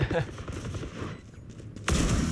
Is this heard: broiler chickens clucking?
no